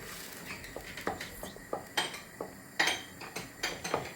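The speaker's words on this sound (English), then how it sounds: "And now we break up the tomatoes, and after that we stir" Tomato sauce with salt being stirred in a pot makes a run of close, irregular spoon knocks and scrapes against the metal, some sharp clinks among them.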